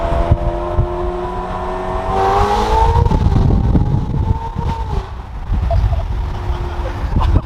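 Ferrari F8 fitted with a full Boden exhaust system revving hard from inside the car, a loud rising engine howl that sweeps up and then settles, with wind rush around it and no talk.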